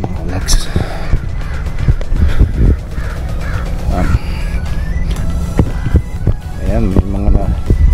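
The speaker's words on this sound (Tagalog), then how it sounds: "mga uwak ata yan" Crows caw in short, harsh repeated calls over a loud, busy outdoor background with other noise and some talking.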